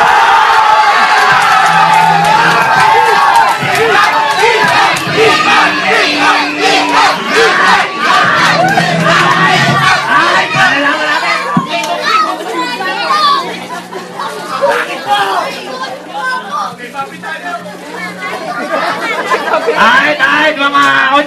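A loud, close crowd of excited voices, many of them children, cheers and shouts without pause, with overlapping chatter throughout.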